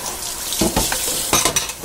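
Tap water runs into a burnt popcorn pot in a sink, a close, steady hissing splash with a few clanks of the pot, and no talk.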